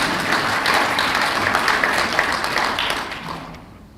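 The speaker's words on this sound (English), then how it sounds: "Please give yourself a big round of applause." A crowd at a Rotary International gathering applauds, dense steady clapping that stays loud and full before thinning and fading toward the end.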